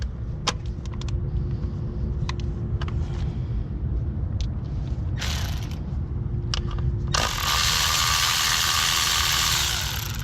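Ratchet with an 8mm socket loosening coil bolts on a Ford Focus engine, several short clicking bursts close by, then a sustained buzzing run near the end.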